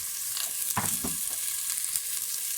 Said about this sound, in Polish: zaczynamy całą naszą operację duszenia cebuli